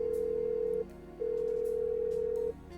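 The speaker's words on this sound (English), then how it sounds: "let's try and phone Jag." Telephone ringing inside a point-and-click adventure game, a steady electronic ring tone in two long bursts separated by a short pause, clear and alone over a faint background.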